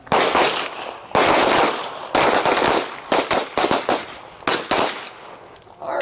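Rapid handgun shots fired one-handed during a practical combatives drill, with several loud, sharp cracks in bursts and brief pauses between them.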